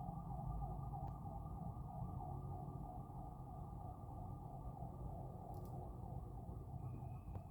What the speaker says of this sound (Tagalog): Parang may ambulance.